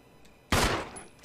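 A single loud gunshot from Resident Evil HD, sharp and close, with a short decaying tail against a quiet background.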